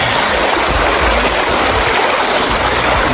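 Fast-flowing river at a hillside crossing in Glen Feshie, a loud, dense, continuous rush of water heard up close with no voices.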